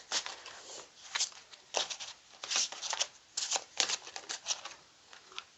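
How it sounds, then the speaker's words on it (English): A large tarot deck is shuffled by hand in bursts of riffling, papery card flutters with brief pauses between, close and fairly quiet, with no talk. "so I'm shuffling a bit awkwardly with this deck because it's actually quite large"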